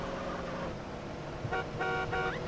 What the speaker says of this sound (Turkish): Korna da çalıyorum la.